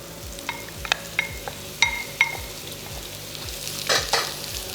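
Sliced white onions dropped into hot rapeseed oil sizzle steadily, with a few sharp clinks and scrapes of a utensil and a low rhythmic hum underneath. No one speaks.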